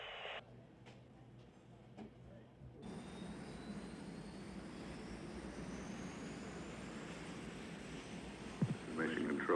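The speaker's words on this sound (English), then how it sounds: "chase planes are taking off now at Edwards" Jet chase planes take off at Edwards Air Force Base during the 1982 Columbia shuttle landing. A distant, rumbling jet roar swells and holds steady, with brief radio voices at the start.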